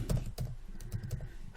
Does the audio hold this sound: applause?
no